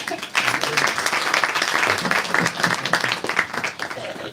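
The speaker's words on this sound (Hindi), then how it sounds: "सब तालियों से उनका स्वागत करेंगे।" Audience applause at a live Brahma Kumaris centre program welcoming a doctor to the stage, dense steady clapping filling the room from start to finish with no talk over it.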